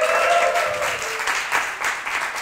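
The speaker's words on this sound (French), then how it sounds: "ça c'est les Goldies qui applaudissent parce qu'elles savent que c'était délicieux" Applause from the audience at a startup pitch night, a dense, loud wash of clapping hands that carries steadily and tapers slightly toward the end, with a faint voice at the start.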